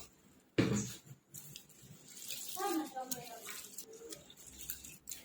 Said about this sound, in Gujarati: હવે આપણે બે ત્રણ પાણી એને સરસ ધોઈ લઈશું